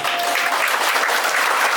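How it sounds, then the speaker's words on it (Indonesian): Steady applause fills a room at a one-day English and character camp, a dense, even wash of many hands clapping close by for the whole brief moment, with no talking over it. "Intinya, boleh tepuk tangan."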